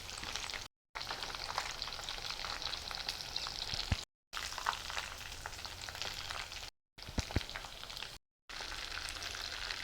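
Chicken pieces for a dry fry crackle and sizzle in hot oil with a dense, continuous spitting hiss, broken by a few short silent gaps and occasional sharper pops as the pieces are turned.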